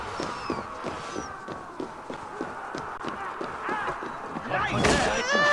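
A sharp gunshot-like blast erupts near the end of a busy Assassin's Creed Valhalla battle scene, rising over galloping hoofbeats, clashing commotion and someone talking throughout.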